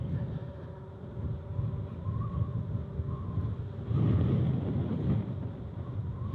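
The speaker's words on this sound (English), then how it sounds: "I just started to pick up a little bit of wind." Wind buffets the microphone outdoors during a Freego X3 test, a low, uneven rumbling roar that swells and dips, with a stronger gust partway through and no talking.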